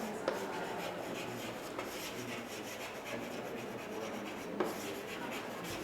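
Pen moving across paper while a three-column cash book is written out by hand, making a steady, quiet rubbing scratch with a few faint taps throughout.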